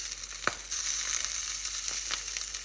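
Sausages fry in oil and a little water in a covered cast iron pan, giving a steady close hiss with a few brief pops and crackles throughout.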